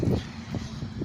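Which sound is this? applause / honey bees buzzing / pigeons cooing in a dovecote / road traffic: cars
road traffic: cars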